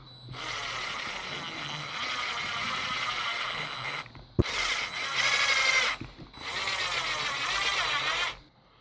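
Power driver sinking long screws into the rear of a Traxxas TRX4 Sport RC car during assembly, a steady close buzzing whir in several runs separated by short stops, with a sharp click between bursts.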